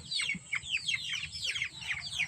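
Young chicks peep in a rapid run of thin, high chirps, repeated several times a second close by, with low clucking and rustling underneath.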